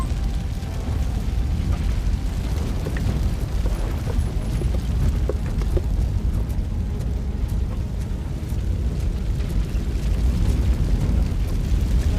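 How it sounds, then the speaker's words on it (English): A fire blocking the way in RoboCop: Rogue City, a loud dense low roar that rumbles on without break, heavy and close with no voices. "Fire is blocking the way."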